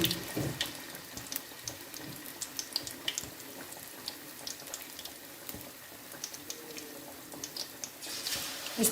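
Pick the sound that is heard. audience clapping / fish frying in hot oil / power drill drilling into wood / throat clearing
fish frying in hot oil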